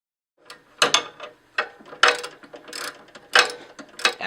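Small screw being worked loose from a furnace igniter mounted in front of the combustion tubes, heard as a close series of sharp metallic clicks and ratcheting scrapes in irregular bursts.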